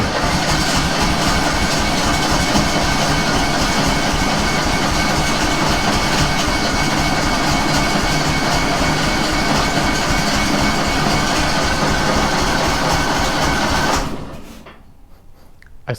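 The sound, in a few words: Kohler 18 engine running on a single cylinder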